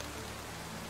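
Steady hiss of rain falling in Roblox Lumber Tycoon 2, faint and continuous with no voices.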